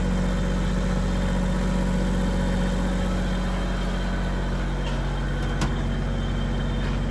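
Two Caterpillar C18 diesel engines run inside a yacht engine room, a steady deep droning hum that holds at constant loudness throughout with no talk.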